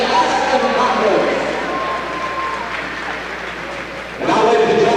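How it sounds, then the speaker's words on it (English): Arena crowd at a high school all-star hockey game applauding players and coaches, steady broad clapping with an announcer's voice over it, swelling louder near the end. "Let's give these players and coaches a well-deserved round of applause, everybody."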